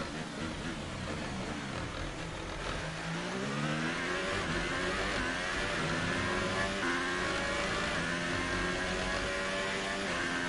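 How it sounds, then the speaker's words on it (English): A McLaren Formula 1 car in the racing game F1 2018 revs and accelerates steadily for several seconds, its loud engine note climbing and falling through gear changes, with an odd strained quality running under it throughout. "I'm in a McLaren that's making weird noises."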